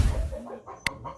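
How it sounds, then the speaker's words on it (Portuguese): A backyard hen on a rural Brazilian smallholding clucks in a few short, fairly close bursts, with a brief sharp sound partway through; no one talks over it. "olha a galinha"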